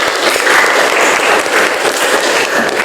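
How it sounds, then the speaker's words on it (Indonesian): A classroom of students claps together in loud, dense applause lasting a few seconds, heard close and without talking. "mari kita beri aplaus untuk kita semua"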